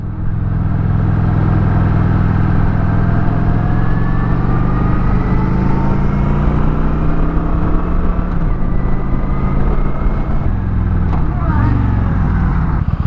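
Kawasaki Vulcan 900 Classic motorcycle riding on the road, a loud, steady engine drone with wind rush and pitch shifts as the tall gears roll out, a rider talking over it.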